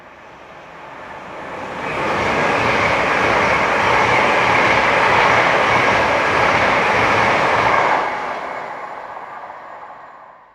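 A ScotRail Class 158 diesel multiple unit in the Train Sim World 6 game rumbles past, rising from a low hum into a loud sustained roar of engine and wheels for several seconds before fading away.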